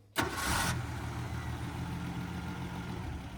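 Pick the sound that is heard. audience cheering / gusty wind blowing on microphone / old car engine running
old car engine running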